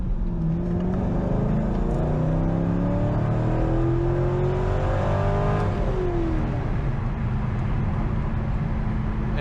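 A 2004 Corvette with a six-speed manual drives along a rural main road, its engine droning steadily with rising and falling pitch through gear changes, loud and close under constant road and wind noise.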